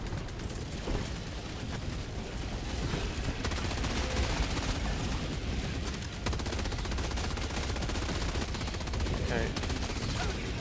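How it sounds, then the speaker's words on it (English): Dense, continuous barrage of rapid gunfire and explosions in the Helldivers video game, with a Gatling barrage and thrown dynamite against bugs, loud and sustained throughout with no talk. "Let's throw a Gatling barrage and just some more dynamite"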